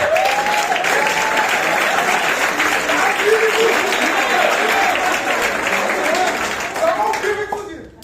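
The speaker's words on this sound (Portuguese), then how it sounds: "Você pode aplaudir ao Senhor?" A church congregation applauds to the Lord in steady, loud, sustained clapping, with a voice speaking over it throughout, the applause fading out at the very end.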